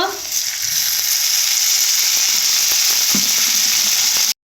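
Soybean chunks, seasoned with salt, sizzle in hot oil in a pan with a loud, dense, continuous crackle that cuts off sharply at the end.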